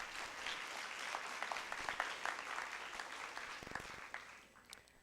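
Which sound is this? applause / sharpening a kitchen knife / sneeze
applause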